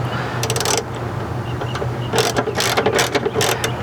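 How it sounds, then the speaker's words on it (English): T8 torx driver turning the headlight aim adjuster on a Chevy Avalanche, giving short bursts of rapid clicking ratchet-like ticks separated by pauses, close and fairly quiet. "It's that adjustment right there. It's a T8 torx."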